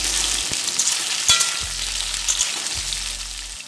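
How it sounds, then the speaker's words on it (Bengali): Cubed potatoes and taro fry in hot oil in a pan, giving a close, loud sizzle broken by a few sharp clinks and stirs, with no voices. "আলু ও কচুগুলো আমি ভালো করে প্রথমে ভেজে নেব।"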